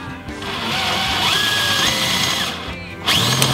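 A power drill whines loudly and steadily up close, its pitch shifting as it bites into metal bumper straps on a 4Runner, with a brief pause before it spins up again.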